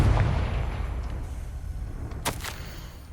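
A Confringo spell explodes in Hogwarts Legacy, a single loud, deep boom at the start that rumbles and slowly fades, with a brief sharper crack near the end.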